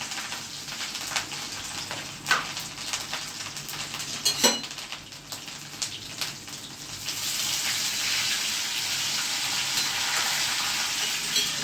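Cumin seeds with dried and green chilies fry in hot oil, popping and crackling sharply with spoon stirs and pan clinks, then settling into a dense, steady sizzle in the second half.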